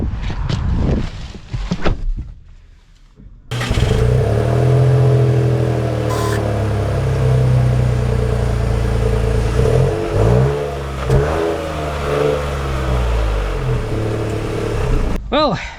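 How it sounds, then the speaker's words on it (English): A 2025 Nissan Rogue all-wheel-drive crossover pulls away and drives, its engine hum and road rumble steady and loud inside the cabin, with rising pitch sweeps as it accelerates; brief sounds precede it at the start. "let's go on a short little trip here in the Nissan Rogue"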